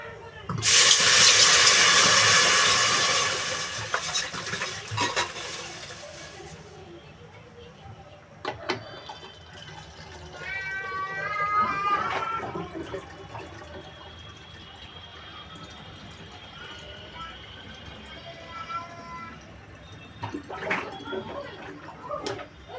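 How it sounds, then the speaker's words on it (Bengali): Water is poured into fried lentils in a pot for bhoger khichuri. A loud, rushing gush lasts the first several seconds, then quieter bubbling and clinking follow while a voice speaks briefly. "আমি জল ঢেলে দেবো"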